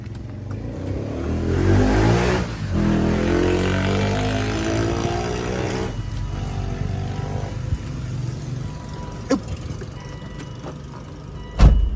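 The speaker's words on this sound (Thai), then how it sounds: "เหยียบเบรกกดปุ่มแช่นะครับรถก็จะสตาร์ทครับเหมือนเหมือนปุ่มผู้สตาร์ททั่วไปนะครับ" A 1998 BMW Z3 fitted with a push-start button cranks and fires up, the engine catching with a loud rising rev and then settling into a steady, close idle, with a sharp click near the end.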